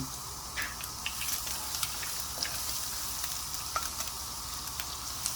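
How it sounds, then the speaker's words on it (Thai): Garlic sizzles and crackles steadily in hot oil, with small pops scattered throughout and no talking. "เจียวกระเทียม"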